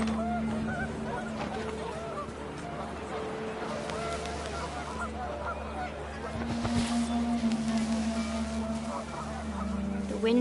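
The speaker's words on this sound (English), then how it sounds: "The wind picked up, and panicked geese appeared and quickly went." Panicked geese in the video game What Remains of Edith Finch, set outdoors as the wind picks up: repeated honking calls over a steady rushing ambience, with a swell of louder honks midway, no talking.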